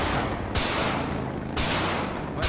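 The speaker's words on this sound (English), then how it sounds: "Sergeant, I'm gonna shoot him!" Rapid bursts of gunfire in a GTA 5 roleplay police standoff, three dense volleys of loud shots in quick succession, close and without talk.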